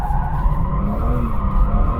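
A BMW M4 Competition drifting at full lock, its tyres giving a sustained, loud squeal over a deep engine rumble, close and continuous for about two seconds with no talk.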